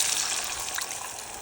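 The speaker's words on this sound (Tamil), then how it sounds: "அந்த புளி தண்ணியை ஊற்றிக்கலாம்." Tamarind water pours steadily into garlic rasam in a home kitchen, a continuous close splashing gush lasting the whole moment with no voices.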